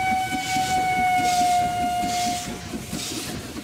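A video game steam train chugs in a rhythmic puff with a long, clear steam whistle blowing over it, set in a dinosaur train race.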